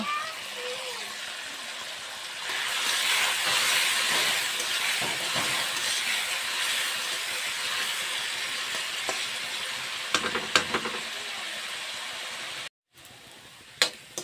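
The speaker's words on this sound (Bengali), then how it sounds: "আলুগুলো ভাজা হয়ে গেছে" Potatoes fry in a hot pan with a steady broadband sizzle and hiss, joined by a few clatters near the end.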